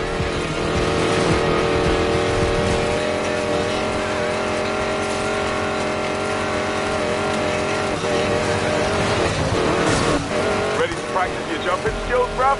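A hypercar loaded with prototype tech roars through a video game race, its engine droning steadily with rising and falling revs, shifting toward the end with a few sharp bursts, while a voice talks over it.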